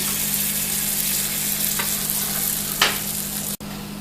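A folded tortilla fries in a hot pan, giving off a steady, close, even sizzle throughout. A couple of brief louder crackles rise from it before a sharp click near the end.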